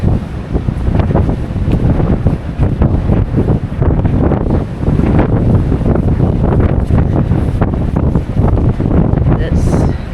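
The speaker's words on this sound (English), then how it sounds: "Probably can't hear me how windy it is" Strong wind buffeting on the exercise deck of a Brittany Ferries ship sailing from Portsmouth to Santander, loud continuous roaring gusts battering the microphone.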